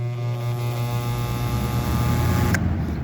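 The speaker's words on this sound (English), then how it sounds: "So there you have it, the Galaxy Wind Machine. I guess we can do a startup sound." A Galaxy Wind Machine model 3521 box fan starts up on its high setting, giving a steady droning hum with a loose rattle from screws that need tightening. A brief click comes near the end.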